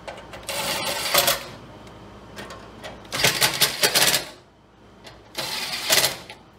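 Bolts being tightened on a custom generator bracket during a propane and natural gas conversion of a Generac XP8000E, heard as bursts of rapid ratcheting clicks separated by short pauses, close and fairly loud.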